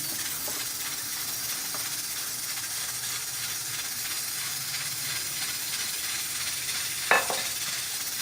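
Egg poured slowly into hot ghee and stirred for an egg halwa, a steady soft sizzle and hiss with faint scraping of the stirring and a brief clatter near the end.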